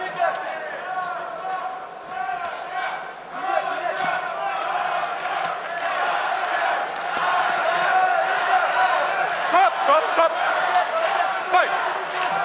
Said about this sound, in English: Hear the crowd chanting, Nadezhda, Nadia, Nadia.